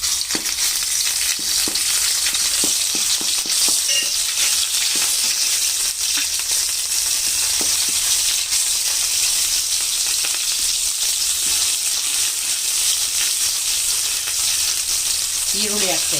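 Ginger garlic paste sizzles steadily in a spoonful of hot oil for an onion manchurian, a continuous close crackle with occasional faint scrapes of a spoon stirring.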